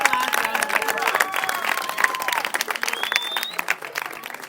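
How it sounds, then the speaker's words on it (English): Audience applause for volunteers and performers at a live stage show, dense crowd clapping with some cheering and whistles, loud and close, fading slightly toward the end. "Let's give everyone who was on this stage, who was behind the scenes, one last round of applause."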